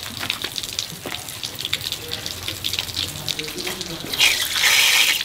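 Tap water runs and splashes in a sink while freshly picked dendrobium stems are rinsed, with handling noises and a louder gush of flow near the end.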